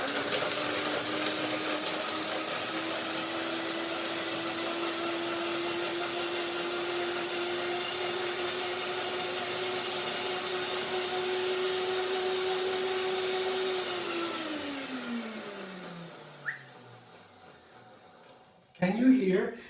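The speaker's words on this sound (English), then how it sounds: "The blender begins to scream." A blender mixing cashew cream whirs loudly at a steady high pitch, then winds down and stops, followed by a brief clatter.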